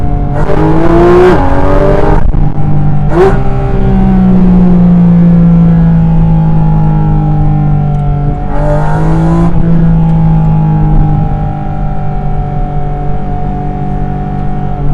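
A Porsche GT4 RS Weissach flat-six engine revs loudly and continuously with its exhaust valves closed, its pitch rising and falling through several gear changes, close and sustained for the whole stretch.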